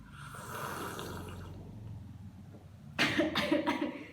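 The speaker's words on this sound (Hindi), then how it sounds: "और जब आप पानी पीते हो तो आपको स्लर्प नहीं करना है।" A person demonstrates slurping water while drinking, a soft murmur at first and then a louder burst of wet, sucking slurps near the end, close and alone without talk.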